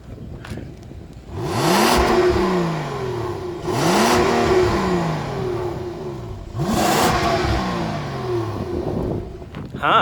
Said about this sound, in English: Trish, can you give us another rev time?